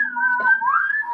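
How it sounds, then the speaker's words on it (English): A person whistles the Mockingjay call from The Hunger Games, a short, clear melodic phrase of a few steady tones that slide between pitches, close and alone with no talking. "Do you do the Mockingjay whistle?"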